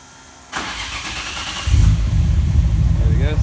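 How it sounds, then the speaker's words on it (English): Nissan Skyline GT-R R34 running on E85 cranks and fires up via remote start, the starter whir giving way to a loud, close, steady idle with a voice speaking over it. "The car started sweet, not a problem."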